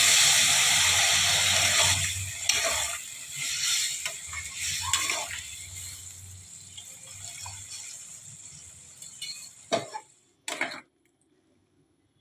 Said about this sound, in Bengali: এবারে বন্ধুরা আমি জল দিয়ে দেবো।